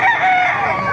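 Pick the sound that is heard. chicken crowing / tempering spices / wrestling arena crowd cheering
chicken crowing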